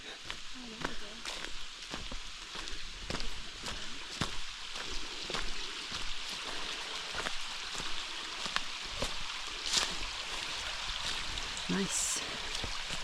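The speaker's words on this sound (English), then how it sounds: "Sounds like a pretty large creek." Hubbard Creek, a fairly large stream along a hiking trail, flows steadily as a constant broadband wash throughout, with scattered light ticks and brief faint sounds over it.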